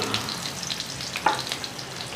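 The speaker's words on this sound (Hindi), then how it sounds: "एक पैन ले लिया है, इसके अंदर 1 टेबल स्पून ऑयल डालूँगी, 2 से 3 जवे यहाँ पे लहसुन के इसे डाल दूँगी।" Garlic cloves sizzling in a tablespoon of oil in a pan, a soft steady crackle with a brief louder pop midway, heard alone.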